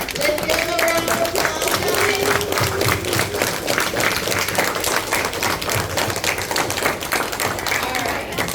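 Audience applause for a speaker at a school presentation, loud continuous clapping from a close crowd that stays even throughout, with voices mixed into it.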